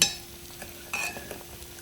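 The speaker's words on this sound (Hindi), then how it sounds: "अब हम अपने धीरे से इसकी स्पून चलाएंगे।" A spoon stirs dal dhokli in a pot, giving a few soft scraping and sloshing strokes over a faint simmer, close by with a brief clink.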